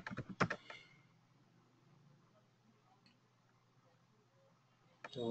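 A password typed on a computer keyboard: a quick burst of soft key clicks, a near-silent pause, then another short flurry of taps, all quiet and close.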